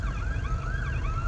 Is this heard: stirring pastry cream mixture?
no